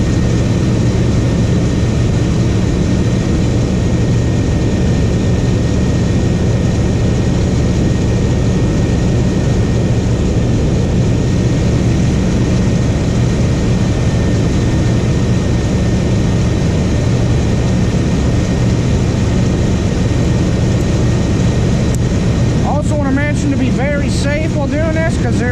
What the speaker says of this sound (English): because the engine is running. So radiator fan's going, the belt's moving